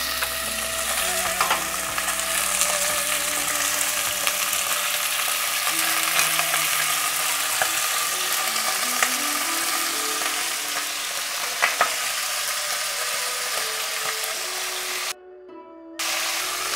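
Pork belly fries in warm oil in a pot over a medium flame, giving a steady, close sizzle with occasional pops and a brief scrape of stirring, then a short cut to near silence.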